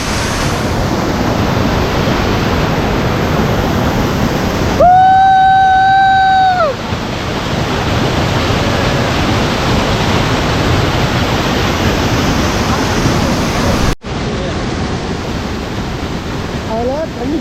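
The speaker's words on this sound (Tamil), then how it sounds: "தண்ணி ஃபால்ஸு தண்ணி அவ்வளோ அருமையாக வந்துக்கிட்டு இருக்கு." Shenbagadevi waterfall near Tenkasi, Coutrallam, pours in a steady, dense rush of falling water heard nearby throughout, with a brief tonal beep partway through.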